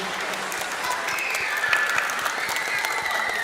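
Steady applause fills the hall at a thanksgiving Mass marking a kindergarten's 50th anniversary, as the congregation claps for the children's choir; dense, even clapping runs throughout at moderate volume, with faint voices mixed in.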